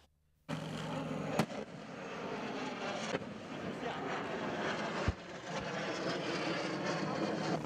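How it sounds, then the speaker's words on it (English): Nigerian Air Force combat aircraft perform tactical maneuvers at an air power display, a loud sustained engine roar that swells and stays constant, with a few sharp bangs cutting through. "Combat aircraft of the Nigerian Air Force in a display of tactical maneuvers and delivery of firepower"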